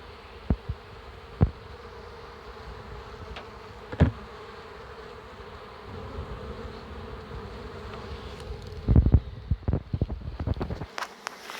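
Honeybees buzzing around hives at a nomadic forest apiary near Torchyn in the Volyn region, a steady close hum of many insects with occasional louder passes, a few knocks and rustles toward the end.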